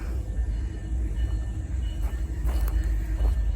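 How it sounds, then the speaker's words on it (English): A train passes nearby as a steady, heavy low rumble and rolling clatter, with faint higher squeaks from the rails, continuous throughout and with no voices. "come on, train, can't you see we're trying to make a video here?"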